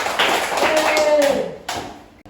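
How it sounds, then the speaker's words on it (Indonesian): A classroom of pupils claps hands during a lesson, a few loud sharp claps in a quick burst under a teacher's voice, then a pause and a final clap. "Ya, tepuk kanan."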